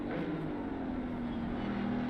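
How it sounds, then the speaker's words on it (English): A Mercedes GT3 race car engine in a racing video game drones with a throaty, sustained roar, its pitch shifting slightly as it holds speed. "That Merc is such a throaty car."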